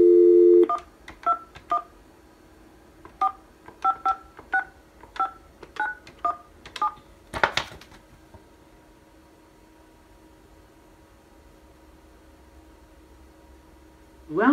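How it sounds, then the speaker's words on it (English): DTMF dialing tones from a Panasonic IP phone, a rapid series of about a dozen short, evenly spaced beeps in clusters, clear and close, preceded by a brief dial tone and followed by quiet line hiss. "we'll now make an external call from one of the Panasonic IP phones to the E-MetroTel phone that resides on the cloud server"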